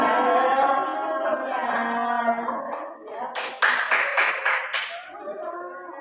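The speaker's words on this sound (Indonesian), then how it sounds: "Tepuk tangan buat Ami." Students in a classroom clap for a classmate named Ami: voices come first, then a short burst of quick, close handclaps that soon dies away.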